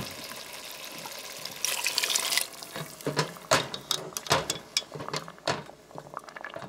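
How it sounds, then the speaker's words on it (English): A cup of water is poured into a pot of chicken curry with garbanzo beans, a brief splashing gush followed by sloshing, stirring and clinking of the pot up close, with no talking. "I'm going to put like a cup of water to cook"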